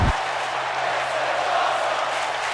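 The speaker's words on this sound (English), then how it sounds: "The crowd chanting, "This is awesome,"" Wrestling event crowd at JWF Regal Rumble '21 roaring steadily in a broad, loud wash of noise, a dense arena sound sustained throughout without distinct voices standing out.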